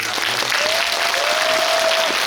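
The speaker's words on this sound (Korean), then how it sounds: "세 분께 박수 드리면서 인사를" A cinema audience at a guest visit screening applauds three guests, with dense, loud, continuous clapping filling the room and a brief sustained tone running under it.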